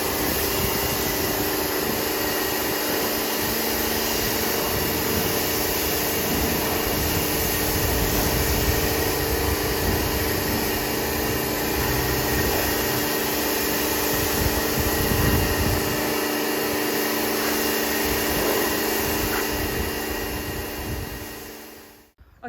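A Mini is rinsed down during detailing, a steady, loud broadband hiss of spraying water running continuously for about twenty seconds before cutting off at the end.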